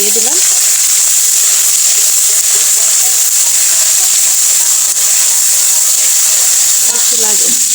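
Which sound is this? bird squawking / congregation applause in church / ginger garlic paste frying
ginger garlic paste frying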